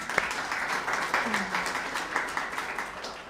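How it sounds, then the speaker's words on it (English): Audience applause at a Women's Day conference event in Amman, a steady wash of clapping from a crowd lasting a few seconds, moderately loud with scattered sharper claps and some voices mixed in. "Let's give her a round of applause."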